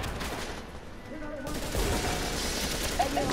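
Bursts of gunfire crackle in a firefight in The Division's Dark Zone on PS4, steady and fairly distant, with a few sharper cracks near the end.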